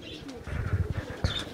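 Highflyer pigeons coo in a loft in soft, low throaty calls, close and continuous, with a few faint chirps over them.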